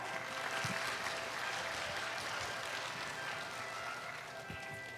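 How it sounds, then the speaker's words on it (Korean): Applause from a school graduation audience greets a city council vice-chair, a steady, dense wash of clapping that fills the hall throughout without any clear voices. "부의장님 나오실 때 큰 박수로 맞이해 주세요."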